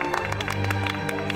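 A small group claps in a burst of scattered, uneven applause, close by and lively, with a few voices mixed in.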